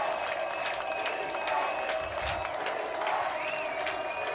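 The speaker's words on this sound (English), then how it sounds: "This crowd is getting into it already" Stadium crowd at a college football game, Chapman versus CMS, sends up a steady roar of cheering and scattered applause, broad and continuous throughout, with a commentator's voice faintly mixed in.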